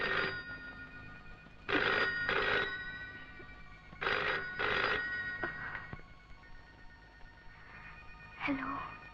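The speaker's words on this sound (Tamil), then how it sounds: "நான் கமலாக்கு ஒரு ஃபோன் பண்ணிட்டு வந்துடுறேன்." A telephone rings in a Tamil film scene as a call is placed, sounding in repeated double bursts of bell-like tone at moderate loudness over a quiet background.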